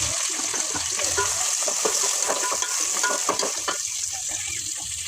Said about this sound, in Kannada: ಸ್ವಲ್ಪ ಫ್ರೈ ಆಯಿತು. ನಾನು ಈರುಳ್ಳಿ ಹಾಕ್ಕೊತಾ ಇದ್ದೀನಿ.